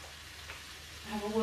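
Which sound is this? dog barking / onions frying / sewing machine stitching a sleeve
onions frying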